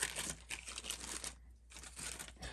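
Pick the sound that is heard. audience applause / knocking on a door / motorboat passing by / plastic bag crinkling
plastic bag crinkling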